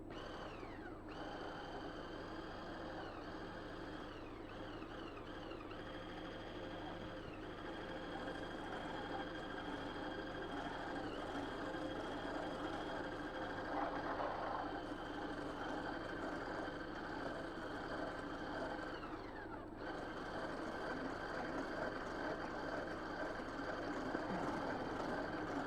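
Electric hand mixer running at minimum speed while whisking sabayon, a steady close motor whine with a low hum that drones on without pause, its pitch dipping slightly now and then.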